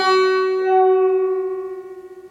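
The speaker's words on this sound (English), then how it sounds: "Just pluck it and give it just a little bit of a turn, not even a quarter of the way, just enough to hear the note move." A single plucked banjo string rings out with a clear steady tone while its tuning peg is turned slightly, the note sustaining and slowly fading with a faint wavering decay, alone with no talk.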